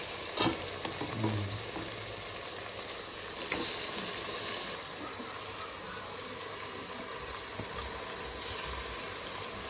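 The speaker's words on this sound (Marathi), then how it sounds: "मसाला लावलेलं मटन आता ह्या फुंडीमध्ये टाकून घेत आहे" Masala-marinated mutton tipped into a biryani pot, hitting hot oil with a loud burst of sizzling that settles into steady frying, with scraping and stirring along the way.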